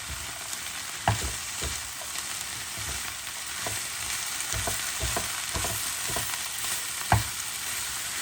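Chopped cabbage sizzles in a frying pan with mushrooms and onions while a utensil stirs it, giving a soft steady fry with a series of regular scraping knocks, one louder clack near the end.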